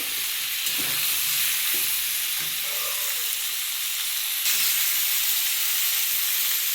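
Vegetarian curry stir-frying in a pan, a steady soft sizzle with a few scraping stirs near the start, continuous and moderately quiet with no talk.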